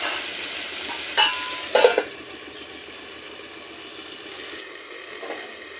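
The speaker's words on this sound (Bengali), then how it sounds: "এইভাবে আদা আর লঙ্কা দেওয়ার পরে এটাও এক মিনিট একটু ভাজা হতে দেব" Chopped ginger and green chilli fry in a pan for a Bengali fig curry, giving a steady close sizzle with a couple of sharp utensil clatters early on before it settles into a softer hiss.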